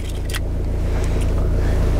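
A Renault Megane Dynamique idles close by with a steady low engine hum, and a few faint clicks and taps sound over it.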